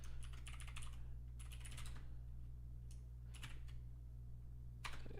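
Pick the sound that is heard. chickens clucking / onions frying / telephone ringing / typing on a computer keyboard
typing on a computer keyboard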